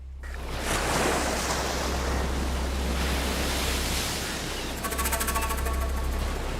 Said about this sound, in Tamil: கடல் என்ன இன்னைக்கு இப்படி கொந்தளிக்குது?